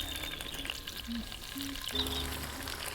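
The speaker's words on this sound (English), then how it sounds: "So just saute the tofu in the cast iron pan in a little oil" Tofu sautéing in a little hot oil in a cast iron pan gives a continuous close sizzle with faint clinks over it and no voices for three seconds.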